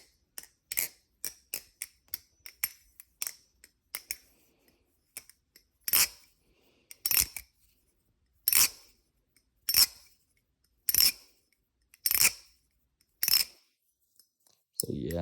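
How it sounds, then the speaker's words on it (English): A titanium folding knife flipped and handled, giving quick sharp metallic clicks, first rapid and scattered, then a slower run of crisp snaps at roughly one-second intervals, close and isolated with no talk. "So yeah, amazing sounding knife."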